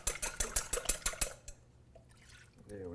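Rapid rhythmic clinking of a whisk against a bowl of crepe batter stops, then milk is poured in with a soft, low liquid trickle, and a voice briefly starts at the very end.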